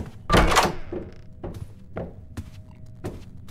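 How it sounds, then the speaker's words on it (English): In a horror video game set in a hallway of doors, dull knocking thuds land at uneven intervals: one heavy knock up front, then several lighter knocks spaced out over a few seconds, with no talking. "What's that knocking noise?"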